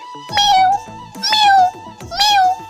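A human voice imitates a cat, giving three drawn-out meows in a row, each loud and close, with short pauses between.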